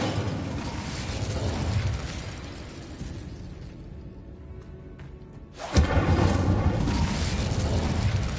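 An Incendio fire spell cast in Hogwarts Legacy, a burst of roaring flame and crackling impacts, dipping briefly before a loud sharp eruption flares up again and sustains in a dense, close rush.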